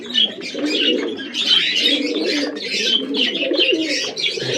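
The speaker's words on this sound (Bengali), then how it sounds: "লাল মোহন পায়রা" A Lal Mohan pigeon coos steadily and loudly close by, its low throaty warbles overlapping in a continuous rolling chorus with brighter chirps layered above.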